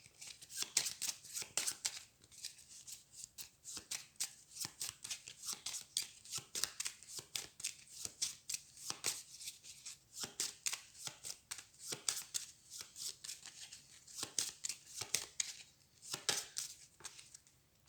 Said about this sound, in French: je prends ma défausse, je la mélange